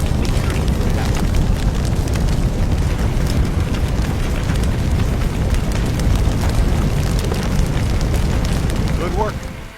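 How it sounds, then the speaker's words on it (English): A CO2 extinguisher sprays onto a grease fire in a firefighting video game. A steady, loud, rushing hiss holds for nearly ten seconds, then cuts off sharply at the end. "Sweep the extinguisher side to side on the flame."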